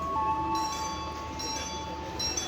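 The Serayu economy class train stands at Ciamis station in West Java on track 2, giving off a steady mechanical hum with a sustained tonal whine and faint rumbling, moderately quiet and close.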